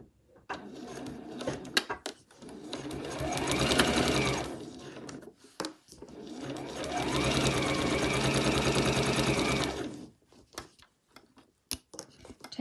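Sewing machine stitching a seam on a bag lining with a 1 cm allowance, running in two steady bursts of rapid mechanical whirring, separated by pauses with handling clicks and fabric shuffling nearby.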